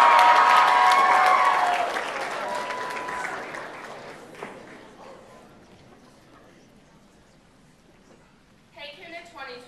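A school audience at Kuna 2012 candidate speeches claps for Mallory Apples of Oldham County High School. The applause is loud for about two seconds, then fades to a quiet murmur before a brief voice near the end.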